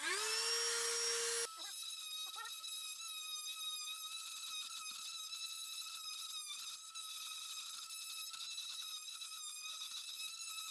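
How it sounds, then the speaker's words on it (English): Dremel rotary tool carving a hole for a lock in an RV bathroom pocket door: a steady high-pitched whine that runs unbroken from a brief startup to the end, loud and close, with no talking. "Then again, I went back with my Dremel tool."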